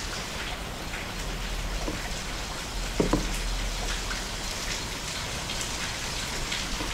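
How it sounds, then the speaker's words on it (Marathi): Steady rain falls at a resort in Palghar, a dense, even patter close by with one brief louder splash near the middle and no voices. "हा पाऊस थोडा कमी झाला आहे मगाचपेक्षा, पण अजून पण पाऊस आहे"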